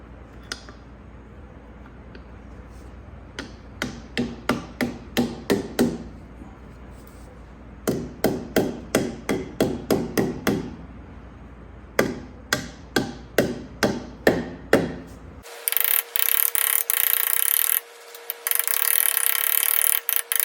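Hand deburring a metal part from a John Deere 3325 winch on a John Deere 450 dozer, with rhythmic rasping strokes in short clustered runs, followed by a loud continuous mechanical whir near the end.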